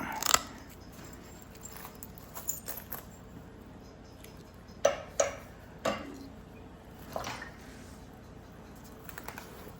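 An antler tool works a piece of Horse Creek chert during flintknapping, producing sparse, sharp clicks and taps at irregular intervals against a quiet background.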